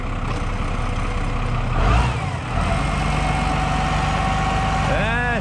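Tractor engine driving a hydraulic weeder in a cucumber field, running steadily near the microphone and briefly rising in a revving surge at about two seconds before settling back to a constant drone.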